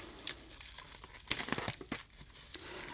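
Plastic wrap is cut and peeled off a 1989 Fleer baseball card box, giving quiet, close crinkling and tearing in short irregular bursts with brief pauses between them.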